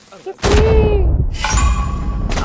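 Dynamite explodes in the video game Uncharted: Legacy of Thieves, a loud sudden boom followed by a rumbling tail and a second blast, with brief game sounds before.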